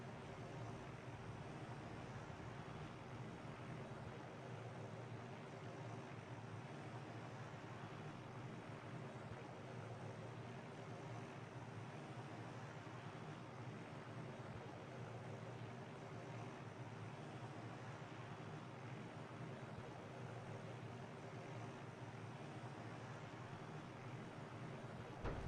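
A helicopter in the ArmA 3 video game gives a steady, faint, continuous rotor and engine drone that holds unchanged for the whole stretch, with no talking.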